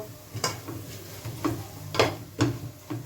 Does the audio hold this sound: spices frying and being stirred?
yes